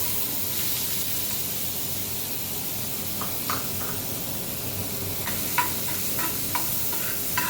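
Finely chopped onion fries in hot oil over full heat for a homemade veg frankie, giving a steady broad sizzle with a few light stirring clicks and scrapes toward the end, close and without speech.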